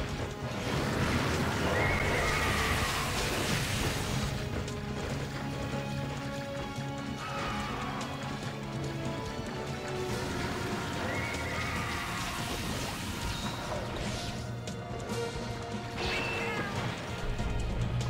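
Repeated horse whinnies in the video game Monster Hunter Freedom Unite ring out over a dense, busy backdrop of thudding hooves and clatter, several loud neighs spaced across the scene.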